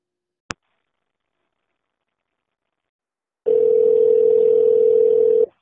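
Lenovo K3 Note smartphone sounding a dial tone after dialing: a single faint click, a pause of silence, then a loud continuous steady tone that runs for about two seconds.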